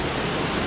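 Wind blowing at a waterfall over 150 feet high, heard as a dense, steady broadband roar, loud and unbroken for a short moment.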